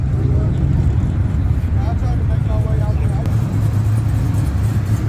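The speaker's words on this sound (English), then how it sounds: "We got cars up in here," Idling and rumbling car engines fill a crowded night car meet at a Buc-ee's in Houston, a steady close mechanical drone with people talking over it.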